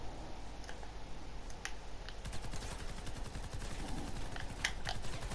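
Gunfire in Fortnite Save The World, rapid steady clicking shots repeating over a constant background hum, fairly quiet and with no talk.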